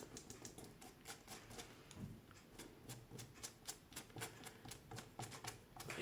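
Fingertips tap repeatedly on freshly glued paper covering a cardboard advent box, a quick, uneven patter of soft close taps with no talking.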